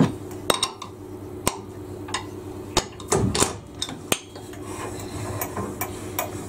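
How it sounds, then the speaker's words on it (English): A drill chuck taken off a drill is tapped to knock sawdust out, giving scattered sharp metallic knocks and clinks, a few separate taps and a brief rattling cluster, fairly quiet with no talk. "I'm actually just going to take the chuck off again and just tap it to get all"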